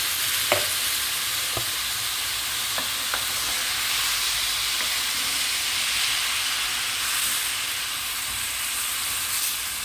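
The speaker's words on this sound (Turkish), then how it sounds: "Şimdi içerisine bir küçük kavanoz domates sosunu ilave ediyorum ve karıştırıyorum" A small jar of tomato sauce is stirred into frying eggplant, giving a steady close sizzle and hiss with occasional spoon taps and scrapes against the pan, and no voices.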